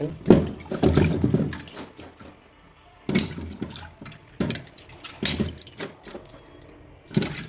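Chopped capsicum peppers are swished and rinsed in water, with bursts of splashing and sloshing separated by short pauses, close and fairly loud.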